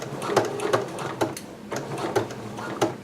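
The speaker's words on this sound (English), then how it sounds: "And then I'm just stitching to this needle here where I know that my dot marking is." Home sewing machine stitching a garment seam up to a marked dot while sewing a Simplicity 8448 pattern, heard as several short mechanical bursts of needle runs separated by brief pauses, close and moderately loud.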